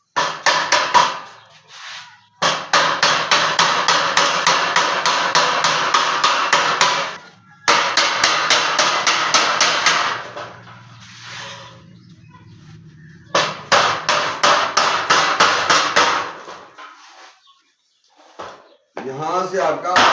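Rapid, repeated hammer blows drive a part into a homemade free-electricity device, coming in dense bursts with short pauses between them. Quieter gaps fall between the bursts, and a voice talks briefly near the end.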